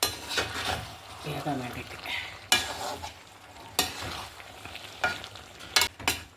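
A spoon scrapes and stirs chicken chukka masala in a hot pan, with a soft sizzle, repeated clattering strokes and sharp knocks against the pan, while a voice talks intermittently.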